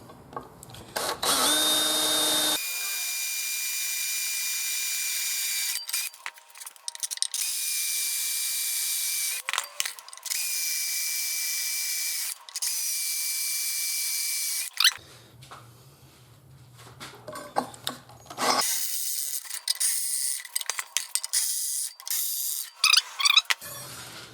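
A power drill with a 3mm pilot bit whines loudly in several bursts, boring into a metal plate with a high-pitched grind, separated by short pauses and clattering handling noises.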